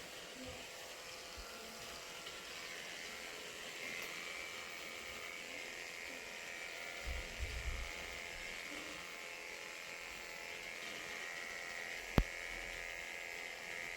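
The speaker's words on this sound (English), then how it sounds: "I'm now just shaving the private area basically" Electric clippers buzz steadily and close up while trimming the delicate private area of a shih tzu during grooming, a continuous low hum with a few brief bumps.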